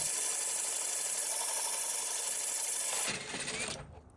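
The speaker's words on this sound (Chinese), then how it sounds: "把模具用工具夹子固定在砖上，就可以开洞了。" A large bit, fed with water, drills a hole through big ceramic tile held by a clamped template, giving a loud, steady grinding hiss that drops off and fades near the end.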